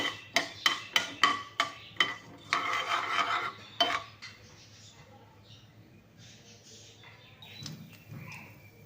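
Mustard seeds with a little fenugreek spluttering in hot oil for a tempering for tamarind-leaf chutney: a rapid run of sharp, loud pops and crackles for about four seconds, then fading to a faint, quiet sizzle.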